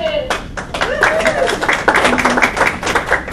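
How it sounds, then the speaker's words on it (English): Audience members at a closing ceremony clap in a loose, uneven burst of individual hand claps, with a speaker's voice sounding over the start and continuing under the clapping. "Give me another clap."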